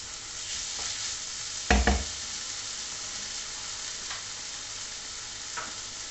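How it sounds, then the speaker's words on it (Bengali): Ginger, tomato and garlic frying together in a pan, a continuous soft sizzle with one loud clattering stir about a third of the way through and a few lighter scrapes. "এটাকে আমি একটু একসাথেই দিলাম, একটু ভাজতে দিচ্ছি"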